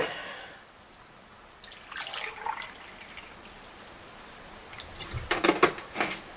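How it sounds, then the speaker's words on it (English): Two cups of milk are poured into a measuring cup for a Woolton pie, with faint trickles and splashes in short bursts and a clatter of cups. "Now we're going to use 2 cups of milk. Let me measure that out."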